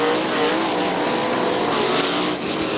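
Outlaw sprint cars roar around Winston Motor Speedway in a continuous loud engine howl that holds steady, with the field close by and no break in the racing noise.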